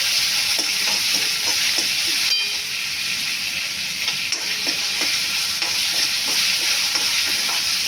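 Dal stir-frying in a pan before wild greens go in, a steady close sizzle and hiss with light, regular scrapes and taps of the spoon all through, no talking.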